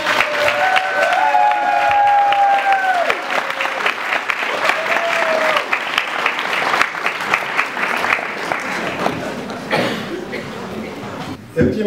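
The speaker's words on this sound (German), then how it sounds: "Viel Applaus für Ralf Lehmann" Audience at a harp festival applauding a harpist, dense sustained clapping with some cheering and chuckles, while a few short tonal notes sound early on and the clapping fades toward the end.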